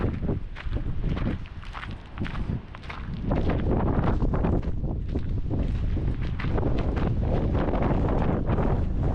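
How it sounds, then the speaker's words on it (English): Strong wind on the Great Australian Bight coast buffets the microphone in loud, continuous roaring gusts, with rumbling low-end blasts that swell and never let up. "Windy here."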